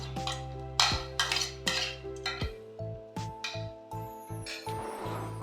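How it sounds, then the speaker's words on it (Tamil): A spoon scrapes and clinks against a metal pot in repeated strokes while stirring fish curry, close by, with a faint hum behind it. "குழம்ப நல்லா கிளறி விட்டுக்கோங்க"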